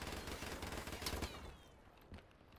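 Gunfire in the video game Call of Duty 4 during a Prop Hunt match, a rapid, dense automatic burst that fades after a second and a half, followed by one or two faint later shots, distant and quiet.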